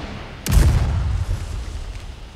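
Gunfire and an explosion from the Resident Evil 4 Separate Ways video game: one sudden loud boom that rumbles and slowly fades over a low steady background.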